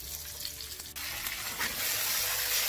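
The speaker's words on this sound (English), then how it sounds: "we're just gonna cook up these onions a little bit to get them a little bit soft" Onions with salt frying in a wok, a steady bright sizzle throughout with a soft stir partway, close and continuous with no talking.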